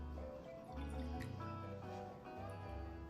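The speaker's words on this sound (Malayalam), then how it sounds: "നമ്മൾ ലെമൺ ജ്യൂസ് മാറ്റി വെച്ചിരുന്നത് ലെമൺ ജ്യൂസ് ബൗളിലോട്ട് ഒഴിക്കുക." Lemon juice drips and trickles into a bowl while a turkey is marinated for Malabar-style barbecue, a quiet liquid pour with small splashes and no talking.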